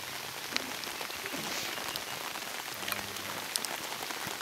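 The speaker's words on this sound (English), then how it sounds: "You can see it's raining a little bit this afternoon." Light afternoon rain falls steadily on an outdoor safari setting in the bush, a soft continuous patter with a few louder drops, no voices.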